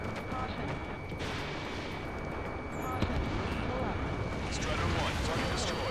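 Gunfire and roaring jet engines in the Ace Combat 7: Skies Unknown video game, a steady dense wall of combat noise with bursts of shots and a rising swell near the end, while radio voices speak over it.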